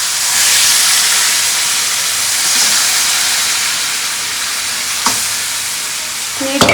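Washed chicken tipped into a pot of boiling ginger, a loud, steady sizzling hiss with a few sharp knocks and clatters toward the end.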